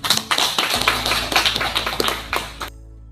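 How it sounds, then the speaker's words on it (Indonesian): A classroom group applauds during a micro-teaching maths lesson, with dense, fairly close clapping for under three seconds before it stops abruptly. "beri tepuk tangan dulu"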